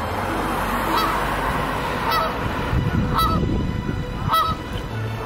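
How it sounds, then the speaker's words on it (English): Many geese honk in repeated loud calls outdoors, heard over a constant windy rumble with no talking. "they don't drown out the honking of the geese"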